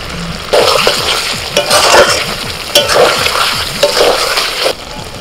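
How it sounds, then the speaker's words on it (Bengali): Chicken kosha stir-frying in a pan, a steady close sizzle with repeated scraping stirs of the spatula throughout, no voices. "আর এইরকমই কষা কষা করে আমি নামিয়ে নেব।"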